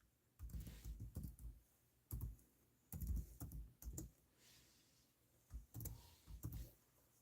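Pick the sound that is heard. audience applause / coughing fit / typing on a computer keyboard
typing on a computer keyboard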